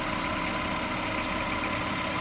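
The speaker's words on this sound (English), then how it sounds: "Hope you can hear me over the engine." A 2007 Audi Q7 engine idles with a steady, even drone and a broadband hum, heard up close with no voices over it.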